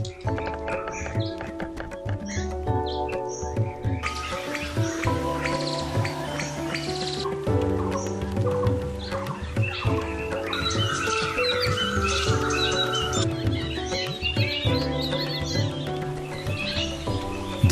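Birds chirping and calling in a forest habitat, several tweeting voices layered over a dense, continuous tonal background that carries throughout.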